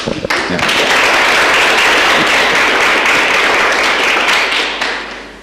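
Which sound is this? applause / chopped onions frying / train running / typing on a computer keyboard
applause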